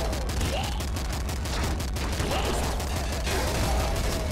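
Rapid, dense bursts of heavy assault rifle fire in Nuclear Throne, loud and continuous with a steady clattering rhythm over low game music and faint chirpy effects.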